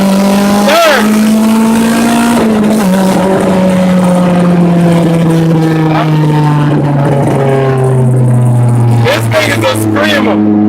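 Honda Civic with small 13- and 14-inch tires driving slightly downhill, engine drone rising and falling through clutch slips and gear shifts between second and third, loud and close, with someone talking over it.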